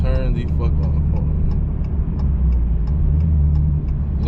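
The engine of an 1100hp Dodge Red Eye idles with a heavy, steady low rumble and a rough, lumpy pulse, heard close from inside the car, with no talking over it.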